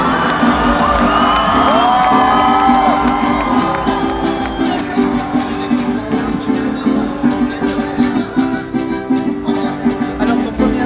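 A large crowd cheers and whoops loudly at a motorsport podium ceremony, the roar settling into steady rhythmic pulses of clapping or chanting.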